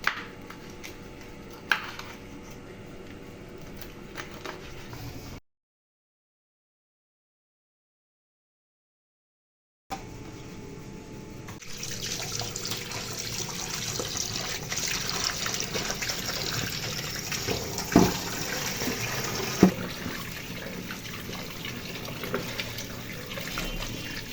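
Running tap water splashes steadily in a sink as magur catfish pieces are washed, a continuous close trickle broken by a few seconds of silence partway through, with occasional clinks.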